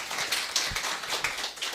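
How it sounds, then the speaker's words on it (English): An audience at an Amnesty International stakeholders engagement meeting applauds a speaker named Maureen, producing a steady wash of many overlapping hand claps at moderate loudness with no voices on top. "So can we give Maureen a round of applause?"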